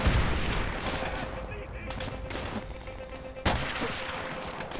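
Gunfire from the video game Call of Duty: Vendetta, a dense backdrop of shots and battle noise with one sharp, loud report near the end, under continuous low game ambience.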